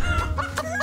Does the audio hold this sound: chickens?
yes